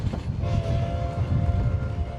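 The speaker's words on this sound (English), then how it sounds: "the train rolls into Osier Station" A train rolls into Osier Station at 10,000 feet, a close, heavy rumble of cars with sustained horn-like tones over the rolling noise.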